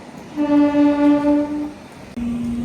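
A MEMU express train horn sounds loud and close in one long, steady blast, then a second, lower horn tone begins near the end as the train runs parallel to a Vande Bharat train.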